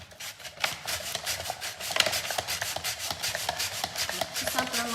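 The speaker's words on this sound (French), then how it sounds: "Avec la mandoline professionnelle, c'est super facile et ça va très vite." Potatoes are pushed quickly over a professional mandoline, a close, rhythmic series of rasping slices at a fast, even pace.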